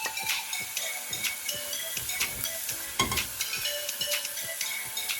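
Cauliflower, corn and other vegetables sizzle loudly in a pan while a utensil stirs them, with repeated scraping clicks against the pan over a constant frying hiss.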